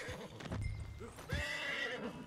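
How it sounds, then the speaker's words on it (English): A horse in Red Dead Redemption 2 whinnying and snorting close by, with a couple of hoof thuds and stomps on the ground over a couple of seconds. "Let's calm down the horse here."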